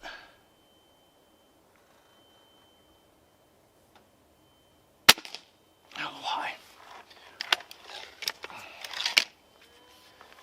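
A Gamo Swarm Magnum Pro air rifle fires a .22 pellet, one sharp crack in a quiet room, followed by rustling and handling noises.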